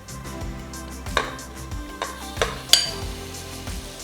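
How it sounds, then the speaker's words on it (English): Marinated mutton pieces sauté in oil over a high flame for a mutton masala gravy, a constant crackling sizzle broken by several sharp clanks and scrapes of a spoon stirring against the pan. "Saute the mutton for 5 minutes at high flame"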